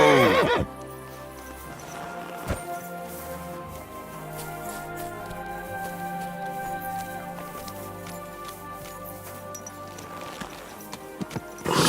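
A video-game horse whinnies near the start and end, with hoofbeats clopping in between over a steady low backdrop.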